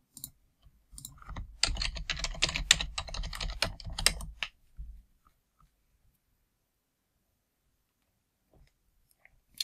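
Someone types on a computer keyboard to log in, a short burst of fast, close key clicks lasting a few seconds before near silence, with a couple of faint taps near the end.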